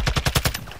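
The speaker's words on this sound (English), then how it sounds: "He's not even looking at me while he's shooting." Rapid automatic gunfire from the Call of Duty video game, a tight burst of about six booming shots that quickly fades, loud and close with no voices over it.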